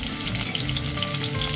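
Chopped green chillies dropped into hot oil for tempering a sabudana khichdi, giving a loud, continuous crackling sizzle close by with no speech.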